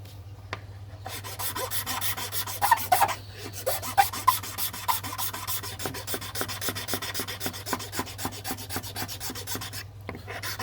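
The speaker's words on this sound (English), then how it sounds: "And we're going to cut that way to thin out the bite zone." A file rasps steadily back and forth across a button and bite zone being thinned and tapered, a close, continuous scratchy rubbing with regular strokes and a brief pause near the end.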